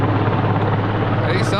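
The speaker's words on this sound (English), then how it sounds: "search and rescue California Highway Patrol helicopter" Loud, close California Highway Patrol search and rescue helicopter rotor thumping with dense engine roar, continuous throughout the short stretch.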